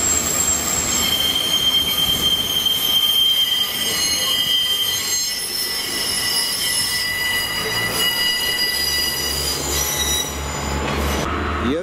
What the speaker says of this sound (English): you just had the train come in from London